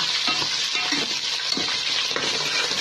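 Curry leaves, cumin, white and round red chilies sautéing in oil before okra goes in, a steady close hiss and crackle with occasional spoon stirs and scrapes against the pan.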